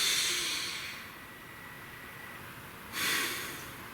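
Two deep, breathy inhales, one opening the moment and another starting near the end, soft and close with a quiet airy hiss between them and no talking.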